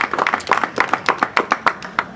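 Audience at a live event gives applause: a brisk, fairly even run of individual claps, close and moderately loud, with no voices over it.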